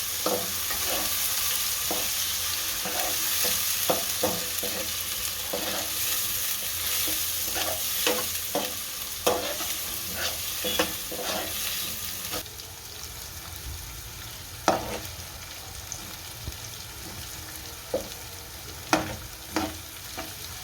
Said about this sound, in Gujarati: લસણ આપણું શેકાઈ ગયું છે લાલ થઈ ગયું છે ટમેટા નાખી દઈએ બધું ભેળવી નાખશું